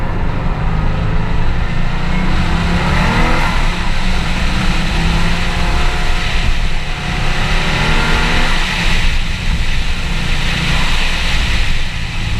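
A 1998 Subaru Impreza WRX STI 22B accelerating hard on a clear road, its loud engine note climbing steadily through the revs and dipping briefly at a gear change before pulling again, heard from inside the car.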